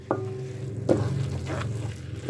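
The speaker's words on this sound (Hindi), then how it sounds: "अभी ये थोड़ा सा ऐसे चम्मच हिलाते हैं तो इससे चावल जो होगा बिल्कुल मैश हो जाएगा।" A spoon scrapes and stirs soft cooked rice for carrot kheer in a pot. A few close, gentle strokes sound against a light sizzle, with a clink at the start and a firmer scrape in the middle.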